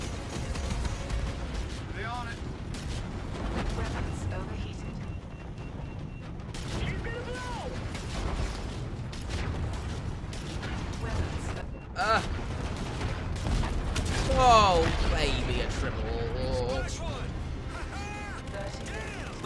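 Rapid bursts of spaceship cannon fire and explosions boom repeatedly over a dense Call of Duty: Infinite Warfare soundtrack, with voices talking throughout.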